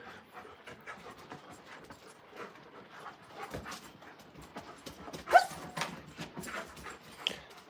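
Two huskies wrestling with each other, with soft panting, scuffling and occasional small whimpers throughout and a brief louder yelp near the middle.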